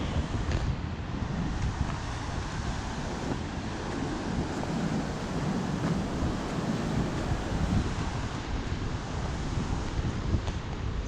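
Rough ocean waves roll and wash continuously beside strong wind buffeting the microphone, a steady, dense roar with no talking, on the coast of Nauru.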